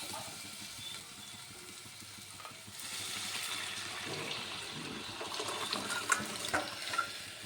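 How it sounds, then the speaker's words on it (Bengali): Liquid dal pours into a pot of softened cooked mango, a soft steady watery rush that grows a little louder midway, with faint stirring splashes near the end. "এখন আমি ডালটিকে ঢেলে দেব।"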